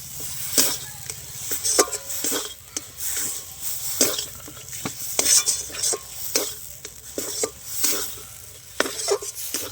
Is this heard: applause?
no